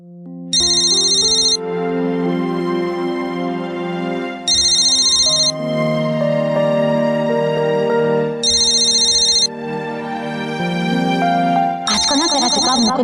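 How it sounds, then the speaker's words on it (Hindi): A telephone ringtone repeats four times in regular bursts, a bright electronic trill over a sustained tonal backing melody, loud and close, with the last burst cut off by another sound. "किसका फोन है?"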